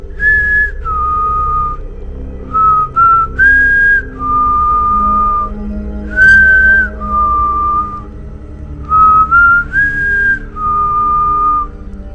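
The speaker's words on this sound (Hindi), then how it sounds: "सीटी बजाने वाला हर रात एक ही धुन बजाता है," A person whistles a cheerful, repeating melody in clear sustained phrases with short pauses between them, close and prominent over a faint low background, used as an eerie horror effect.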